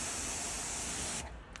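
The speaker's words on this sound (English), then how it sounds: "just spray on and rinse off" Gyeon Wet Coat is sprayed onto a freshly washed car as a steady, close hiss that runs unbroken, then stops abruptly, followed by a brief faint spritz.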